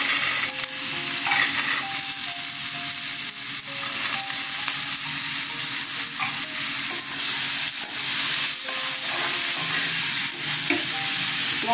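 Chickpeas are stirred and fried in a pan with turmeric, cumin and coriander powder, giving a continuous close sizzle with repeated scraping and clinking of the spoon against the pan.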